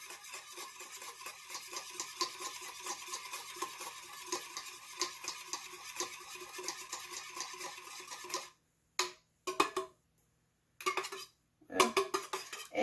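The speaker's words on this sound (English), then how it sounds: "I'm going to beat this 1 egg up." A single egg beaten in a bowl for homemade chicken and dumplings: rapid, steady clicking of a utensil against the bowl for several seconds, then a few short, scattered taps.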